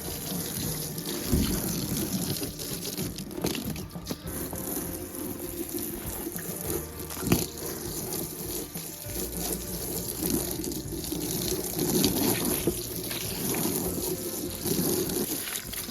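Buckets being rinsed out and refilled with warm water from a tap, with running water, splashing and knocks of handling spread over several seconds; moderately near, no talk.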